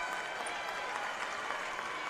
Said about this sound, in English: getting a hand from the Fordham crowd